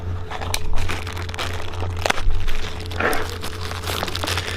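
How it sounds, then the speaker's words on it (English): Plastic packaging around a set of sway bar bushings is sliced open, giving close crinkling and tearing sounds over a steady low hum, with a few sharper crackles partway through. "Kind of hard to see through the plastic. Here, cut it open."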